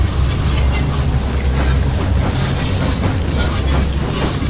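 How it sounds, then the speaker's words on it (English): A summoning key from Call of Duty Zombies is set down during a ritual, giving a sustained loud, rumbling boom with dense noisy texture that holds steady throughout, no voices. "That's the sound of the summoning key basically being put down and going boom."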